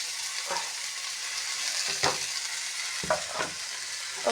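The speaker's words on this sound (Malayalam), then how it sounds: "മസാലകളെല്ലാം നന്നായി വഴറ്റി" Spices and soya chunks sizzle in a hot pan, with a constant frying hiss broken by several scraping stirs of a spoon at irregular intervals.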